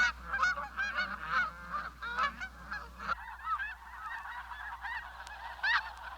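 A flock of Canada geese honks continuously by a lake, many overlapping nasal calls in a busy, chattering rhythm, fairly close and clear with no talk.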